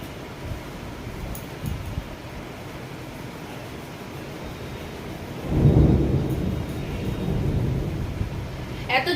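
A thunderstorm with rain and lightning over a darkened road, steady rain and wind with a deep, loud rumble of thunder rolling in midway and lingering.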